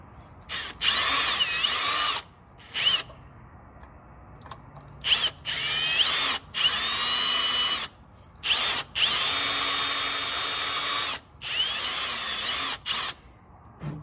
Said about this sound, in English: I need to keep the drill bit perfectly straight.